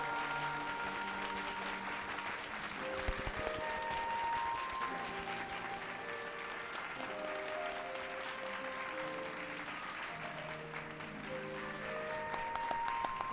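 A crowd applauds in Final Fantasy XIV, a dense, steady clapping that runs throughout at moderate level beneath a soft musical score with sustained tones.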